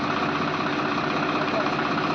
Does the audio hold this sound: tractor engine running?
yes